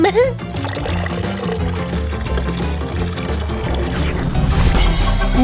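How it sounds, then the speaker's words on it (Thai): Water pours steadily into a bathtub in a mermaid transformation scene, a loud, continuous gushing and splashing layered over background music. "เทน้ำแปลงร่าง เป็นนางเงือกจ้า"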